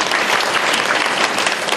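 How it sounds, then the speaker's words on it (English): Workshop audience clapping together in a room, a dense, steady wash of many hands that holds at full strength from start to finish with no talk over it. "Those are having fun, can you clap?"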